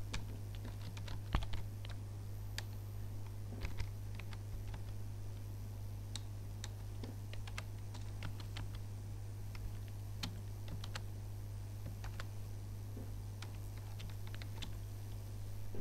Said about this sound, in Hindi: एड्रेस टाइप करेंगे